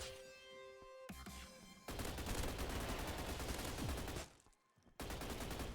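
Hipfire gunfire in the Roblox first-person shooter Energy Assault, a dense stream of rapid shots filling most of the moment, broken by a short pause before firing resumes, with a game tone at the start.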